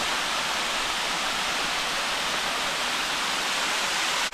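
A waterfall pours over a dam on a Pennsylvania trail, a steady dense roar of rushing water, loud and unbroken with no voices.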